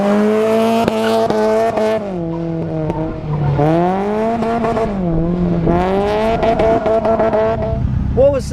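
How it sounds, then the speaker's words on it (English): A racing car's engine screams flat out with the throttle linkage jammed past its stop at a motor-racing event, its pitch swooping up and down loudly with sharp bursts and tyre noise throughout. "the throttle linkage flipped over the top of the stop, so it's flat out"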